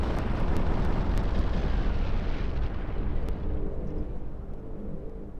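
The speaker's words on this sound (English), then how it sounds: "Okay, we're firing the guns again." Heavy cannon fire from airship guns in Gmod, a dense low rumbling boom that fills the whole stretch and slowly fades, with a few sharp crackling transients near the start.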